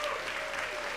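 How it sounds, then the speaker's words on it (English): Audience applause for the winner of the EPIC Lifetime Achievement Award at an awards ceremony, a brief steady wash of clapping under a faint tone. "Let's give a round of applause for Warren"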